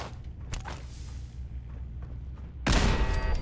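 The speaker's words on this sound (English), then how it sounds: "I'm going to get a grenade ready and try for the toss up here." A grenade explodes in Fallout 4 as a loud, broad blast near the end, after a stretch of quieter rumble and a few faint knocks.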